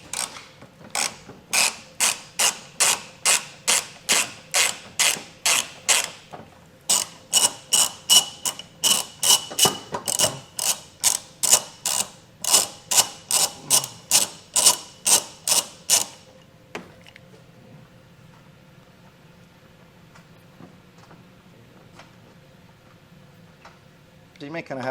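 Rapid ratchet clicking in long bursts as 10mm flange nuts come off a 2018 Ford Edge during trailer hitch installation, loud and close, with pauses between runs and a quieter tail of faint handling noise.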